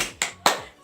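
Two sharp hand claps a quarter second apart in a classroom clapping chant for schoolchildren, close and crisp with nothing else around them.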